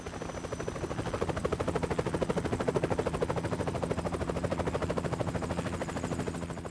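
Steady rotor thump of a helicopter in Metal Gear Solid 3: Snake Eater, a loud, fast, even chop that runs without a break across the whole stretch, with no voices over it.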